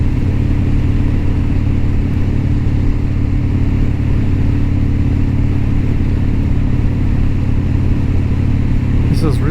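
Harley-Davidson FXDC motorcycle engine running steadily on a dark, cold morning ride, a loud continuous low rumble with constant wind and road roar and no clear revving changes.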